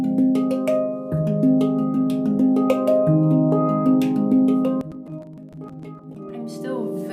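A handpan struck fast and fairly hard, ringing with overlapping tuned metallic notes in a steady rhythmic pattern, close and clear with no voices.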